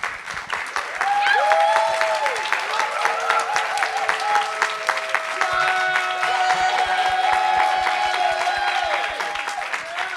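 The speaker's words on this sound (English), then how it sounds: "I want you to give a round of applause to our great panelists" A conference audience at a live podcast recording applauds steadily for about ten seconds, with scattered cheers and whistles rising over the dense clapping.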